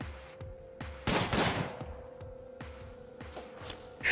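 Gunfire bursts in the prison-management game Prison Architect: a heavy volley of rapid shots around the middle, with scattered single cracks and thumps before and after over a steady background hum.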